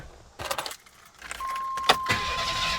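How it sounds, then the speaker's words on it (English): A car engine cranks quickly on a 6000 amp jump starter, keys jangling first, then a short burst of cranking that catches and settles into a steady running hum. "Let's give it a fire up. See if it fires quicker."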